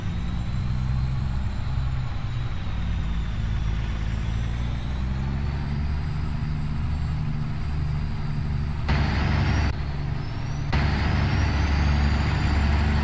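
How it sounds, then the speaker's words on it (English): Heavy truck engine in American Truck Simulator, a steady deep drone with turbo whine on a light load, running continuously and loud without speech. "Just love the sound of that turbo."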